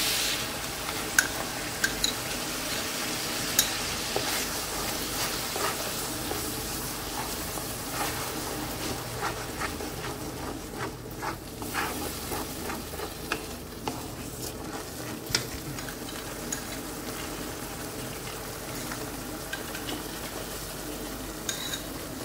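A mustard and poppy-seed paste fries in a pan with tomatoes and oil, a low steady sizzle broken by repeated scraping and stirring clicks of a spoon against the pan, close and continuous throughout.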